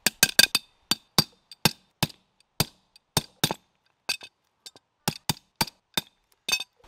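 Sharp wooden knocks as a block of wood bashes a pin through a 4x4 track winch, repeating in uneven bursts, some in quick pairs and triples, close and fairly loud against a quiet background.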